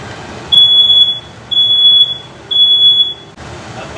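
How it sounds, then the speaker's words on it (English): A kitchen smoke alarm goes off while spaghetti and meatballs cook, sounding three loud, shrill, evenly spaced beeps over a low background hum. "That was the first time on TikTok that the smoke alarm went off."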